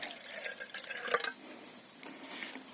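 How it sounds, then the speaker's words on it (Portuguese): Water is poured outdoors in a forest from a container into a paper vessel for heating over a campfire, a soft close trickle and splash that thins into a few drips. "Vou pegar aqui para colocar um pouco de água"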